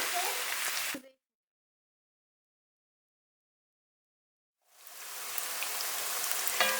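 Eggplant and fatty minced meat frying in a pan with added olive oil, giving a loud, close, rain-like sizzle that cuts off into complete silence for several seconds before the sizzle resumes.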